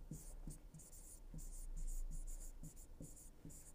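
A pen writing on paper in short rhythmic scratching strokes, faint and close, with a quiet background hum.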